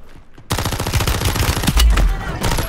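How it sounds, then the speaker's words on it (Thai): The Holger 26 machine gun fires in a rapid, continuous stream of shots in the online shooter Call of Duty: Warzone, loud and close after a brief quiet start. "ปืนที่ไฟเลตรัวสุดในเกม ดูว่ารัวแค่ไหน"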